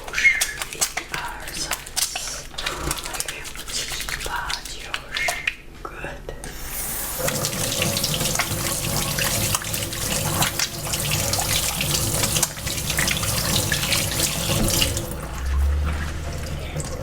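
Water runs steadily from a tap into a sink while gloved hands are washed with foam, with a rushing, splashing flow. Soft speech and handling noises come first, then the stream gets louder and continues alone.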